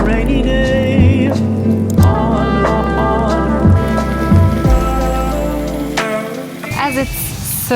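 Artificial rain falling inside a Seoul café gives a continuous patter beneath loud music with singing, which fades near the end.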